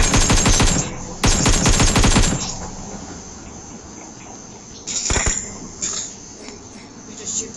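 Rapid automatic gunfire in a video game, fired into the ground in two loud close bursts, then quieter game ambience with a brief further shot near the end.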